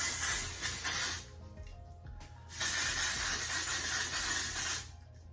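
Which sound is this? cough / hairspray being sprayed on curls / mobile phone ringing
hairspray being sprayed on curls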